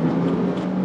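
Mazda MX-5 MK1 engine during a quick rev match, a brief steady buzzing engine note heard from inside the car with no talking.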